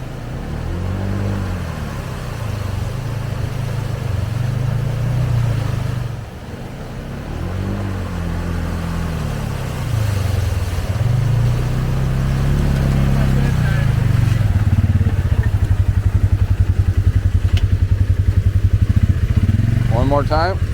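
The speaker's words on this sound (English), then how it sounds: "this might get some of the debris off of the bottom if I make a few good passes through this nice sized creek" A Polaris Ranger 570 UTV makes repeated passes through a creek, its engine droning and revving up and down at close range. People talk intermittently over it.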